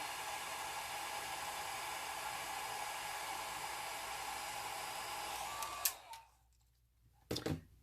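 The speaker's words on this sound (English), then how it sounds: "I'm going to dry it on the low setting of my blow dryer." A blow dryer on its low setting runs with a steady, even airy hum for several seconds while drying alcohol ink, then switches off, followed by a couple of sharp clicks in near silence.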